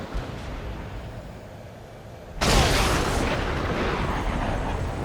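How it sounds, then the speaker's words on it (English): A missile strikes its target in the Ace Combat 7 jet combat game, a sudden loud blast erupting over a quieter engine rumble, then a sustained roaring, crackling wash of explosion noise. "The missile hit its target."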